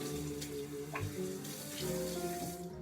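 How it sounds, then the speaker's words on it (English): Cocktail equipment such as a shaker is rinsed under a running tap between martinis, with water streaming steadily into a sink, loud and close throughout with a few brief clinks, and no voices. "Get this off and rinse it out"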